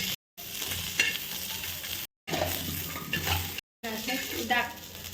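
Green chillies frying and being crushed with a copper pot in oil, a loud continuous sizzle with scraping and stirring, broken by two brief silent gaps.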